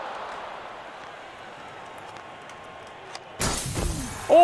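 Glass shatters in a loud, sudden burst in an ice hockey video game, breaking through a steady, low crowd murmur near the end, with a brief sharp crack just before it.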